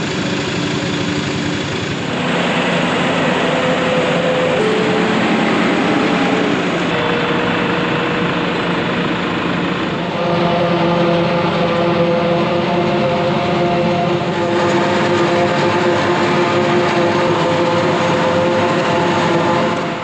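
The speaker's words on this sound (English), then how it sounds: "So here we are out chopping silage. Joel handed me the camera. Got a Case Maxim 150 with a New Holland chopper." Steady, loud engine drone of a Case Maxim 150 tractor pulling a New Holland forage chopper while chopping silage in a field, a continuous rumble with slight shifts in load and no talk.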